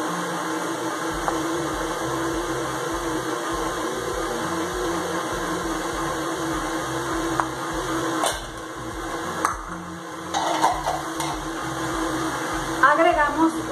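An electric mixer whirs steadily while beating large room-temperature eggs into a marbled chocolate cheesecake batter, a continuous close motor hum with a few brief clatters and bumps near the end.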